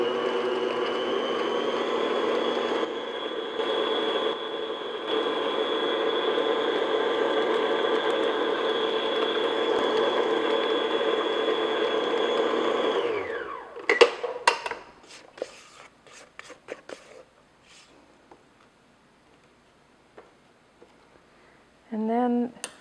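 An electric mixer beats an egg into bran muffin batter with a steady whirring drone that cuts off after about thirteen seconds, followed by scattered clinks and scrapes of the beaters and bowl, then quiet.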